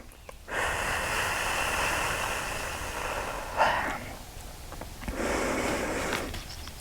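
Slow, deep breaths drawn and released during a beginner half-splits yoga stretch, two long airy exhalations close to the ear with a short pause between, steady and unhurried with no talking.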